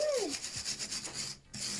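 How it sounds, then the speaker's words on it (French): Brush scrubbing rust off a metal tank in quick rhythmic back-and-forth rasping strokes, close and fairly loud, with a brief pause near the end and a short voice at the start. "Hop, même un petit coup de brosse."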